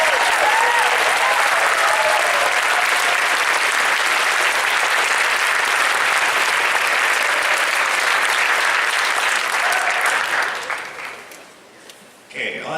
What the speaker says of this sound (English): Big round of applause to our most improved bass section,